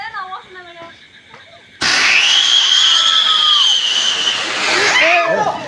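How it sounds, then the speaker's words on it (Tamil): A Diwali rocket firework launches with a sudden loud rushing whoosh and a rising whistle that holds for several seconds before fading, while people chatter and shout around it outdoors. "நேராக ராக்கெட் லான்ச்"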